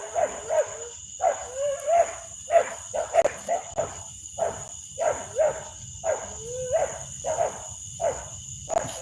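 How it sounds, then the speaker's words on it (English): Several dogs bark at a rural home in Kerr County, Texas, in a loud, regular run of repeated barks nearby, with a steady insect or cricket drone running behind them. "they're gonna bark. That's my alarm system."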